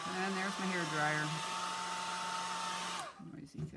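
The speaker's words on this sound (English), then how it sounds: "And there's my hair dryer." A hair dryer blowing continuously at close range, a loud steady whirr that cuts off near the end, with a person speaking over its start and just after it stops.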